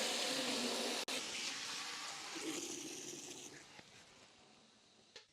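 Water rushing into a bucket, filling to three gallons for a rinseless car wash, a steady close hiss and splash that gradually softens and ends with a small clunk.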